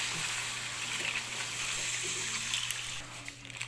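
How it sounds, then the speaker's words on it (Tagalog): Water runs steadily into a cooking pot while sinigang is being made with taro, a continuous close pouring hiss with a low hum beneath. "Then, lagyan ng tubig."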